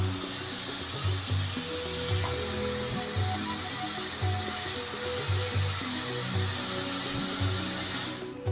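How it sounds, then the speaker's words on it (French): Mushroom egusi sauce cooks in a pot while being stirred, giving a steady, loud bubbling sizzle with scraping utensil knocks and low rhythmic thuds throughout, with no talking. "En même temps, il faut remuer la sauce."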